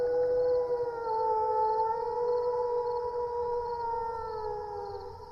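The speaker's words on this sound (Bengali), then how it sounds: "শুধু দূরে কোথাও একটা আধটা শেয়ালের হুক্কা হওয়ার ডাক শোনা যাচ্ছে" A jackal howls somewhere far off at night, long wavering tonal cries that rise and drift over a quiet, hushed background.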